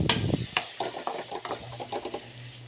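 A spoon stirs tomato chutney and salt in a pan, making close, irregular scraping clicks and light sizzling over a few seconds.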